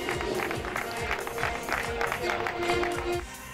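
A crowd applauds the Masters 30 podium finishers of a cycling race, the Challenge Aragón Master 2013 in Cariñena, with steady, moderately distant clapping throughout and some voices faintly mixed in.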